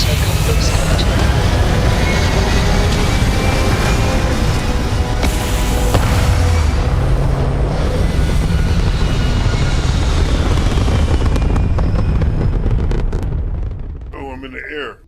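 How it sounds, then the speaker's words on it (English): Spaceship taking off in the video game Starfield, a loud sustained rumbling roar of engines lasting many seconds before dropping off at the end, with a voice speaking over it. "Takeoff looks good."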